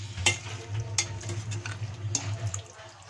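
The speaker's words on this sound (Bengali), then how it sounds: "চিকেনটা ভালোভাবে মশলার সঙ্গে কষিয়ে নেব।" Chicken sizzles in a pan with spices for chicken kosha while a spatula stirs it, giving a steady close frying hiss broken by a few sharp scraping strokes over a low hum.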